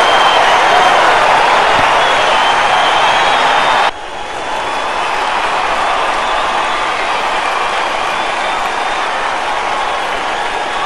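A wrestling show crowd roars and applauds steadily as a fan-favorite wrestler pumps them up, a dense wash of cheering that dips briefly before swelling back to a sustained level.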